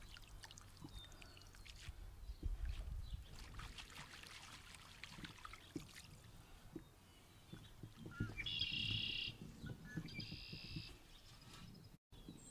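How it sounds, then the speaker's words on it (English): Dandelion roots being swished and rinsed in a muddy puddle at the bottom of an outdoor terrace, with soft splashing, pouring and trickling water, close up, while birds chirp in the background. "I'm going to give them kind of a basic rinse right here in this mud puddle at the bottom of the terrace."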